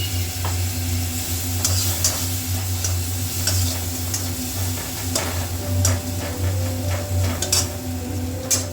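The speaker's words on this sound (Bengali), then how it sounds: "এটা কিন্তু কন্টিনিউ নাড়তে হবে যতক্ষণ না মশলাটা ঠিকমতো ভাজ" A spoon steadily stirs mustard masala frying in a pan, with a continuous loud sizzle broken by repeated scraping and tapping strokes against the metal.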